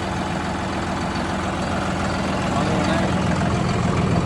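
A steady, loud John Deere 5075 tractor engine with a small fault runs continuously, a low rumbling drone that holds even throughout with no pauses.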